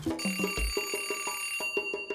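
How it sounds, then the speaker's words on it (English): A cooker timer rings with a rapid, steady electronic trill, a string of bright repeated pulses at close range with no talk over it. "Whoa, and there's a timer."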